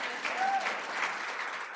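Audience at a board business meeting applauding, a dense, even wash of many hands clapping together, fairly loud and sustained for the whole stretch.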